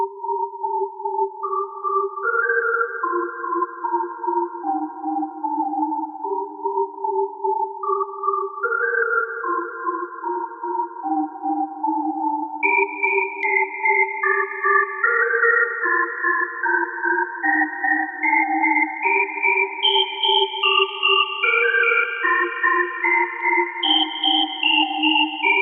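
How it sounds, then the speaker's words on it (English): A melody synthesized from white noise in FL Studio using automation clips, playing as a steady stream of tonal, pitch-stepping notes with short repeated pulses, loud and continuous with no talking. "press the play button and maybe you will hear something like this"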